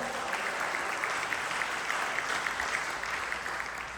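Worshippers in a church service applaud, a sustained, even wash of many hands clapping at moderate volume, heard a little distant, holding steady for several seconds before easing slightly at the end.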